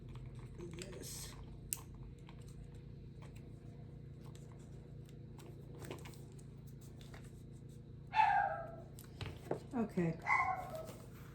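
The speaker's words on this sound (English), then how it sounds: "You're such a good dog." A dog barks and whimpers in short yelping bursts toward the end, close by and fairly loud, after a stretch of quiet indoor room noise with light tapping and a person speaking briefly.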